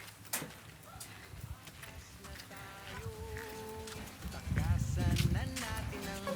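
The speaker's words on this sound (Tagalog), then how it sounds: "Oh guys, may kabayo." Hooves clip-clop nearby among street bustle and people talking, the steps getting louder toward the end.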